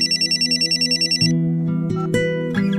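A telephone rings in quick repeated electronic trills, a brisk regular pulse that stops partway through, followed by soft household sounds and tonal background music.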